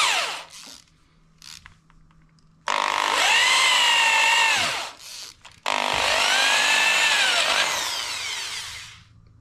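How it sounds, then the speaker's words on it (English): A full-length auger drill bit bores into wood for a table build, two long loud sustained runs of whining, grinding motor and cutting noise separated by brief pauses, with short bursts of lower rumble before them. "I would have thought the whole point of this auger being this full length auger would be that it would drive out the chips as it went"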